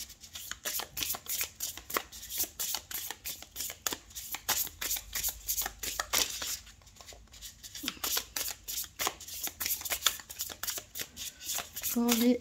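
Tarot cards being shuffled by hand for a card reading, a close, steady series of brisk riffling swishes and taps repeating for several seconds, with brief pauses, ending in a short tonal sound.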